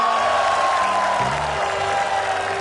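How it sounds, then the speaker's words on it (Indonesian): A studio audience at an Indonesian television comedy show applauds steadily, a dense wash of clapping with faint cheering, sustained and fairly loud throughout. "langsung aja kita sambut tepuk tangan yang meriah"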